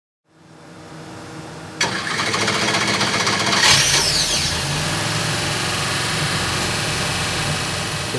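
A 427 small block V8 cranks, fires up, briefly revs and settles into a loud, steady idle, with a rough, rumbling exhaust close by and no talking.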